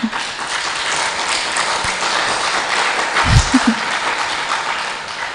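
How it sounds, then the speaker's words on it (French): Audience applause during a lesson presentation, a sustained, moderately dense patter of clapping from a crowd with a faint low thump partway through. "on applaudit aussi pour moi."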